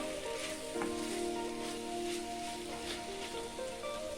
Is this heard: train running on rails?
no